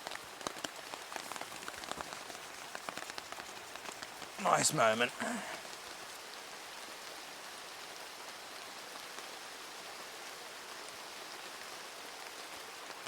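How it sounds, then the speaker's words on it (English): Steady rain falls in a rainforest, a soft constant patter heard from shelter under a hammock, with a brief spoken remark partway through. "It's raining outside and the rain can't touch you."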